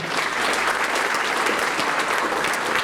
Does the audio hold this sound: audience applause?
yes